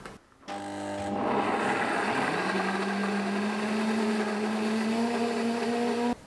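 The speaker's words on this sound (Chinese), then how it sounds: "蒸好的胡萝卜片放入料理机中，打成胡萝卜泥。" A food processor purées steamed carrot slices, starting abruptly and climbing into a loud, steady whirring drone that holds for several seconds before cutting off.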